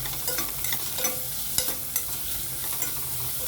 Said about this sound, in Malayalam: ബ്രൗൺ കളറുന്നാണ്ട ഒന്ന് നമുക്ക് വഴറ്റിയെടുക്കാം കേട്ടോ